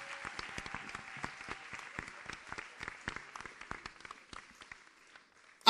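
Applause from a church congregation acclaiming the Lord during a French-language question-and-answer meeting in Nantes, a steady patter of many hands clapping at moderate distance, loosening and thinning toward the end.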